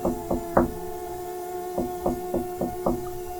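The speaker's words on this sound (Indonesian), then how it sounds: "Terdengar suara ketukan di pintu ruang pemantau." A door is knocked on in short groups of sharp raps, three then a pause then five more, fairly close and clear over a faint hum.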